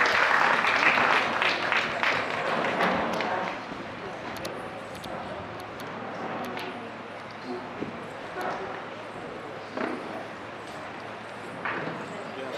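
An audience bursts into loud applause for the artists at a stage performance event in Mangaluru. The clapping is dense at first, then thins and fades while a voice talks over the crowd.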